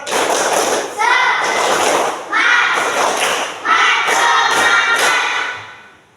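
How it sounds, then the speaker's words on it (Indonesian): Schoolchildren in an Indonesian primary classroom clap a rhythmic 'tepuk semangat' spirit pattern, loud bursts of hand claps in several phrases with short pauses, voices chanting along. "Tepuk semangat."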